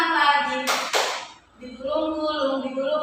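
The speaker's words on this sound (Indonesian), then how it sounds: "Buka tutup, tepuk tangan lagi." Hands clapping in a classroom micro-teaching lesson, two sharp claps in quick succession set between a woman's sung and spoken instructions.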